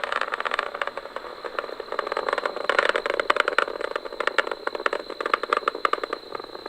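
The Merlin engines of a SpaceX Falcon 9 carrying a Cargo Dragon on the CRS-23 mission roar and crackle through launch, a dense, rattling stream of bursts that continues unbroken throughout.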